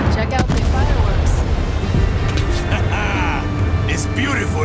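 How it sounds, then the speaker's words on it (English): Fireworks burst in the ending of the video game Far Cry 6, a dense, continuous barrage of booms and crackles layered over background music and voices, loud and busy throughout. "Check out the fireworks."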